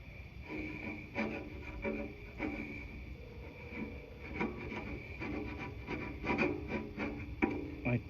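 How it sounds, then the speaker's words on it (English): A scraper grinds and rasps over a truck fuel tank coated with softened aircraft paint stripper in repeated short strokes, a close, gritty scratching over a steady background hum, with no voices. "It's time to scrape."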